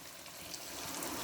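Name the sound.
water poured into pot for aloo gosht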